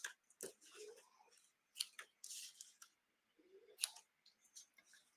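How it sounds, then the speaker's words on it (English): Scissors snip ribbon while trimming the ends on a handmade balloon gift bag with a rosette, giving a string of crisp, close metallic cuts and clicks in uneven bursts with short pauses, no voices. "I'm just going to snip off, make these a little bit shorter."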